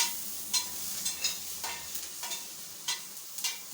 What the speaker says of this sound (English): So we need to fry. We need to fry it.